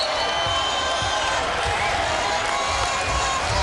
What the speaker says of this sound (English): the vast majority of this sellout crowd here at Walter Pyramid on their feet